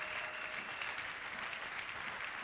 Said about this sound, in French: Est-ce qu'on peut acclamer fort pour dire merci